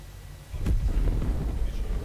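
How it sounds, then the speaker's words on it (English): A huge explosion in the space game Star Citizen booms as a deep, rumbling blast that swells quickly and keeps rolling at low pitch for over a second. "That huge ass explosion."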